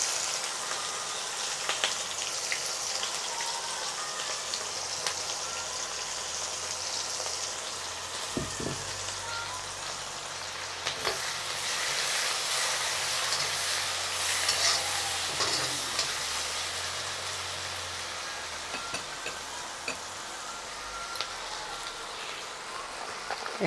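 Chopped onion frying in oil for a rohu fish head moong dal, a steady dense sizzle throughout with occasional stirring scrapes and clinks close by.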